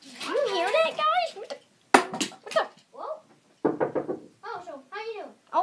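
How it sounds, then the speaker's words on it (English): Knocking on a door in a kids' play-fight skit, a few sharp raps heard in short bursts between excited children's voices that talk over most of the moment. "someone's knocking on the door."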